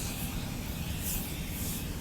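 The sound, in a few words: aerosol foam cleaner spraying car interior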